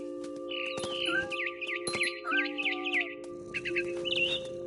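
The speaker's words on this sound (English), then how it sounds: "All I cared about was eating that mama bird." Bird chirping in a tree during the game What Remains of Edith Finch, with a series of bright, clear whistled chirps and warbles repeating near and loud over a steady low hum, with no talk.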